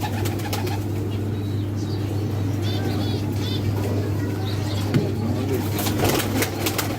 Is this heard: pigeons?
yes